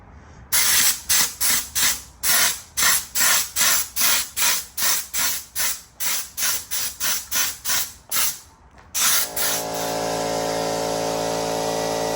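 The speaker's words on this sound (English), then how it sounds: "I'm gonna just spray it, and then I'm gonna spray both of them" A spray can of adhesive glue aimed at a car headliner in a Dodge Charger hisses in about twenty short rhythmic bursts, close and loud, then one long continuous spray at the end.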